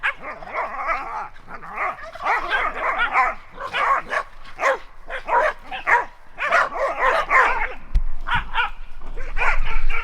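Several dogs bark, yip and growl playfully in rapid bursts in a garden, close and fairly loud, with continuous excited vocalizing throughout.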